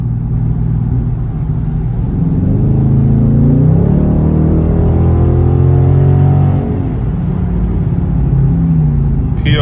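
A Dodge Charger 392 SRT Scat Pack with a muffler delete, resonator delete and Borla exhaust roars loud and close, its deep exhaust note climbing and falling through revs over nearly ten seconds.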